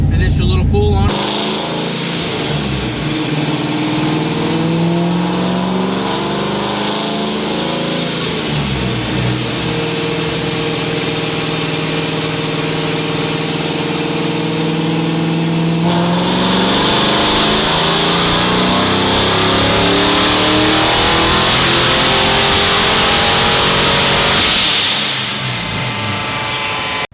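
A Vortech-supercharged 1995 Ford Mustang Cobra 5.0 V8 runs loud on a dyno, idling and blipping before climbing through a long sustained rev, with rising supercharger whine toward the end before dropping off.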